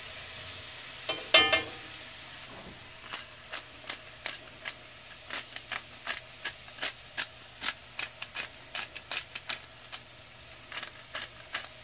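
Butter sizzles softly in a cast iron skillet while an omelet's vegetables soften, broken by a run of quick scraping ticks and taps from a utensil against the pan, fairly quiet and steady with no talk.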